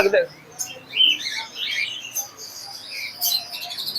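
Java sparrows, white Java birds kept for sale, chirp in short bright tweets scattered across the moment, fairly close and moderately loud, with faint background noise.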